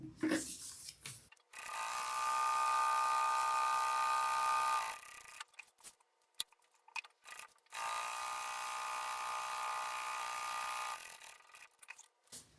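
A sewing machine stitches down the handle of a vinyl tote bag, running in two long, steady whirring bursts with short pauses of fiddling and handling between them.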